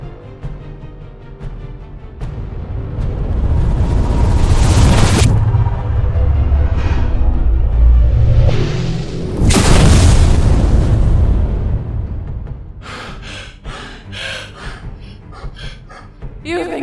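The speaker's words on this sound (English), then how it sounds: "Durgrim channels the last of his magic, a wild, unstable spell that he knows could either vanquish her or destroy them all" A wild, unstable magic spell detonating in a fantasy tale: two long, loud roaring blasts that swell and fade, followed by scattered crackling bursts, with speech elsewhere in the scene.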